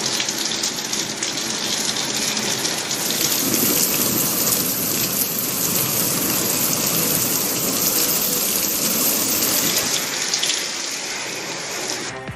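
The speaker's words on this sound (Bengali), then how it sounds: "সকাল থেকেই ভারী বৃষ্টি বিভিন্ন জায়গায়।" Heavy rain pours down across southern Bengal in a dense, unbroken hiss of drops striking surfaces, close and loud throughout and easing slightly at the very end, with no voices.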